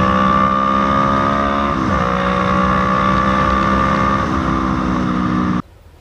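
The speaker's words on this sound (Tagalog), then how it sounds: "So ito guys, eto na, aggressive ride na tayo. Naked bike na gamit natin." A naked big bike motorcycle on an aggressive ride, with a loud, steady engine drone under wind rush, shifting pitch twice and cutting off abruptly near the end.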